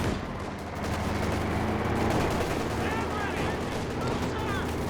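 Battle noise from the Company of Heroes 2 strategy game, with dense, continuous rumbling gunfire and artillery blasts layered together and a commentator talking over the mix.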